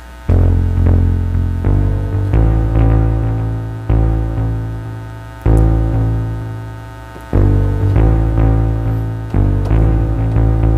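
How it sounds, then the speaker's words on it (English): Low bass-guitar tones from organ foot pedals with echo switched on, a series of loud deep sustained notes that each decay before the next is struck, with no voices. "So right now it's set to bass guitar."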